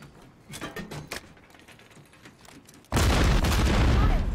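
A grenade goes off in a Call of Duty Modern Warfare III campaign firefight, a sudden loud, close blast with a sustained roar, after scattered gunshots.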